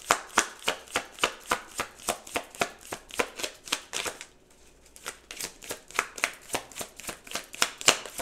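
Tarot cards are shuffled by hand in a steady, even rhythm of crisp riffling bursts, close and clear, pausing briefly midway before the regular shuffling resumes.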